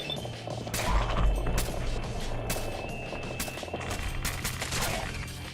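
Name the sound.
gunfire from synths shooting in Fallout 4 video game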